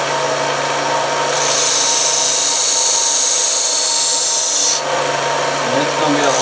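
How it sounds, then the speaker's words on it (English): A belt sander grinds a steel saw blade being shaped into a bushcraft knife, a loud, steady abrasive rasp that swells in after a second and runs for several seconds before easing, with a constant motor hum underneath. "Basically, what I'm using is this belt sander for right now."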